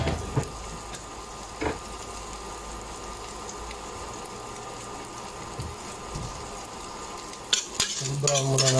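Chopped garlic and onion sauté in a pan for adobo, a soft continuous sizzle with a few sharp utensil knocks and stirring scrapes, the clatter picking up toward the end.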